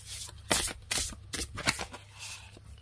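Oracle cards being shuffled, handled and drawn, giving several quick papery riffles and flicks in an uneven rhythm, close and fairly soft.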